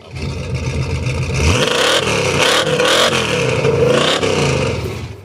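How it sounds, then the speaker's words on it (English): An old car's engine at a car show, recorded right at the exhaust, revs hard and loud for several seconds, the roar swelling and falling in repeated pulls after a brief lower idle at the start, with no talk. "just for once, I'm going to put the microphone at the exhaust"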